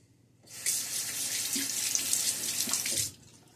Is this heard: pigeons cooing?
no